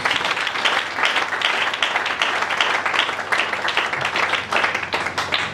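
A church congregation applauds loudly and steadily during a French-language worship service, the dense clapping continuing without a break from start to finish.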